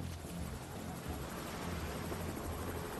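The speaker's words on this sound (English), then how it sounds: "Oh shit, helicopter." Helicopter in the Splinter Cell Blacklist video game: a steady, dense rotor and engine roar fills the whole stretch, loud and unbroken, with no talk over it.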